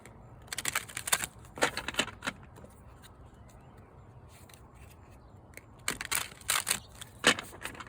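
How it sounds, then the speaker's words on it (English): An oracle card deck is shuffled in several short bursts of crisp, papery riffling and flicking, quiet and close, separated by soft pauses. "Let me just shuffle that again real quick"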